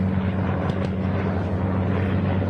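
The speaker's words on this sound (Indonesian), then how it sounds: "Helikopter Amerika." An American helicopter flies overhead with a steady, loud rotor drone and a low engine hum that holds for the whole stretch. No other sounds break through it.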